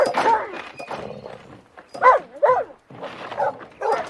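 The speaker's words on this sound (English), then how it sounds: "a volley of fierce barks came from the shed" A dog barks fiercely from inside a wooden shed, loud and close, in several sharp bursts with short gaps and a voice murmuring underneath.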